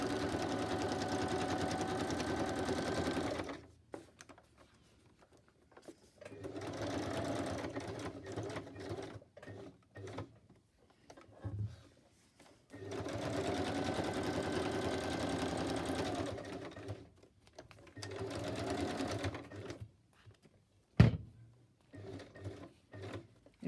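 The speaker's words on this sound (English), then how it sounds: "it's hard coordinating using the machine and not using the machine. Okay, I'm going to backstitch." A sewing machine backstitches an envelope in long, close bursts of rapid whirring and needle clatter, broken by quiet gaps and a sharp knock near the end.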